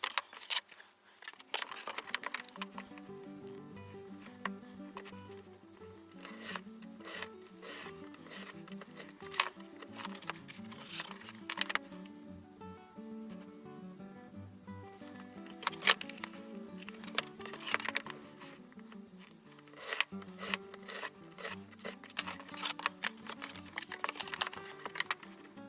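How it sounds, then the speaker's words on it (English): Bookbinding boards being cut to height for an in-boards three-piece Bradel binding: a steady run of crisp clicks and scraping strokes, close and moderately loud, with no talking. "So I'll cut the boards both to that height."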